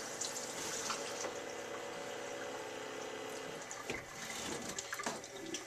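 A freshly developed printed circuit board is rinsed under a running tap, giving a steady splashing rush of water with a few drips and surges toward the end, close and fairly quiet, with no speech.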